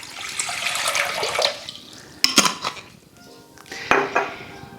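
Water from a flask is poured into a cooking pot, a steady hissing splash for about a second and a half, followed by a few louder metallic clanks and knocks of the pot and flask.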